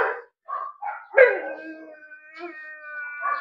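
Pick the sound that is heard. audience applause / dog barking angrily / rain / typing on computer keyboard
dog barking angrily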